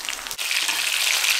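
Tilapia frying in oil gives a steady bright hiss, broken by one brief dip before the sizzle resumes.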